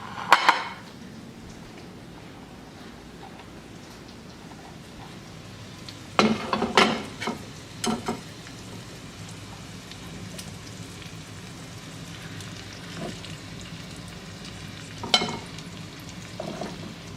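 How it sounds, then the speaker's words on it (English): Chicken for Marry Me chicken fries in a frying pan with a low, steady sizzle. Scattered clinks and clatter of the pan and utensils stand out around the middle and near the end. "So now I'll take this last one and put it in my frying pan."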